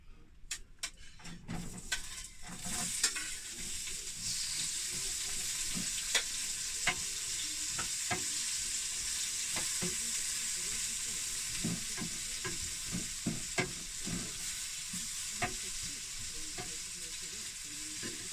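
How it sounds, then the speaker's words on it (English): Onions softening in a frying pan: a continuous, fairly quiet sizzle with occasional light taps and scrapes of a utensil stirring, close by, after a few clattering knocks at the start, with no talk. "I'm going to start with softening the onions, just slightly, while we're having a chat"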